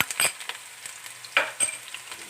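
Ginger and garlic hit golden-brown frying onions for Afghani chicken pulao: a light close sizzle punctuated by a few sharp spoon scrapes and taps, no talking.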